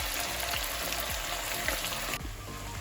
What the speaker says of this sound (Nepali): चिकन राखेपछि राम्रोसँगले चलाइकन फ्राई गर्नुहोला।